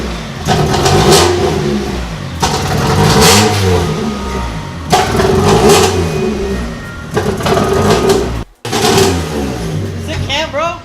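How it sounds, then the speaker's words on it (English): Mitsubishi Lancer engine heard up close, revving repeatedly in loud rising and falling surges with brief pauses between, while people talk nearby. "right now we're gonna start the Lancer, gonna drive it out"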